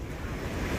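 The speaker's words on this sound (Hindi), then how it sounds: "ब्राजील के रियो डी जनेरियो के समुद्री तट पर तूफान की वजह से उठी विशाल लहरें।" Large storm-driven waves up to 3.7 metres crash onto a beach in Rio de Janeiro, Brazil, making a steady, dense roar of surf mixed with wind noise, with no voices.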